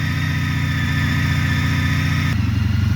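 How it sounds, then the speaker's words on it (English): Honda CTX motorcycle engine idling just after an oil change, a steady close-up low throb with an even pulsing rhythm that shifts slightly near the end. "Now we actually started the engine"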